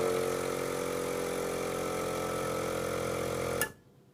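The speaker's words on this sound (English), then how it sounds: "when you switch it on, it should charge up the 300cc air tank inside" A mini airbrush compressor hums steadily with a droning, engine-like tone as it fills its 300cc air tank, then abruptly cuts off near the end, leaving quiet.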